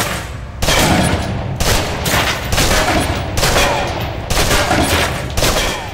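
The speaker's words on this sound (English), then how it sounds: "Now, let's move on to the submachine gun. Now let's empty the clip." Submachine gun emptying a full magazine in the video game Alpha Protocol, loud sustained bursts of rapid gunfire broken by short pauses, close and dominant with no speech.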